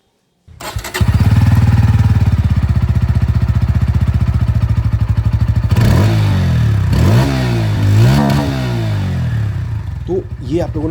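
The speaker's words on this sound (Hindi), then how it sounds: "और अब मैं आप लोगों को यहाँ पर जो N160 है इसकी जो आवाज़ है ये भी मैं आप लोगों को सुना दूँ।" A Bajaj Pulsar N160 with an underbelly exhaust idles loudly and steadily up close, its single-cylinder thump even for several seconds before a few sharp throttle blips rise and fall toward the end.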